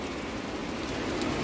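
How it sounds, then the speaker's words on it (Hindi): Heavy rain pours on a mountain trek to Madhyamaheshwar, a dense continuous roar of drops close by, steady throughout with no talking. "बारिश एकदम तेज़ तेज़ लगी हुई है"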